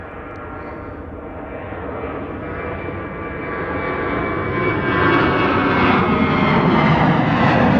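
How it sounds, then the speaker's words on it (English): A KLM Boeing 737 at Amsterdam Schiphol Airport roars with a broad, steady jet engine rumble and whine that grows gradually louder as it nears, with no talk. "Another KLM 737 over here."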